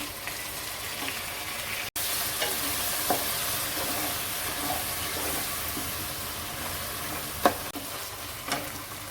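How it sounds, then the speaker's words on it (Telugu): Steady sizzling of ginger garlic paste frying in hot oil, with scraping stirs and occasional clinks of a spoon against the pan. "ఇప్పుడు అల్లం వెల్లుల్లి పేస్ట్ వేస్తున్నాం"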